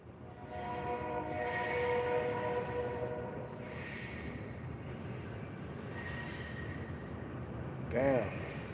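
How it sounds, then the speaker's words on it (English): A train passes close by with a continuous heavy rumble and drawn-out wheel squeals, and a short voice-like call cuts in near the end. "Let that train go by."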